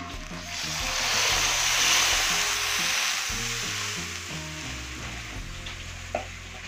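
Coconut milk poured into a hot pan, sizzling with a steady, hissing fry that swells and then settles into a continuous bubbling crackle, with a faint clink near the end.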